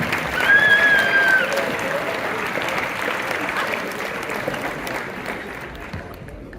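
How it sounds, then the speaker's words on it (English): Crowd at a football media day clapping for a coach receiving a shirt, a full burst of applause that starts strong and slowly thins and fades toward the end, with a brief whistle and some voices near the start. "Give Coach Sparrow a round of applause."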